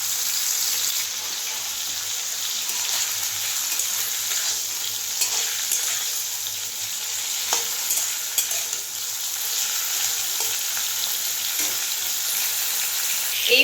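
Cauliflower pieces fry in hot mustard oil in a wok, giving an unbroken loud sizzle with occasional stirring scrapes and clinks, and no voices.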